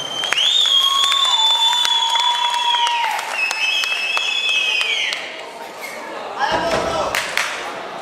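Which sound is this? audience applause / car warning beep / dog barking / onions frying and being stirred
audience applause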